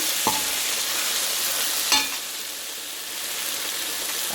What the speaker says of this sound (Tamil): கொஞ்சம் நல்லா வதங்கட்டும்